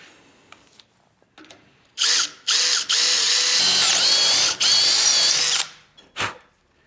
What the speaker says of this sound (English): But I can start by drilling this hole.